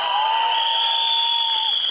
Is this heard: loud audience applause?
yes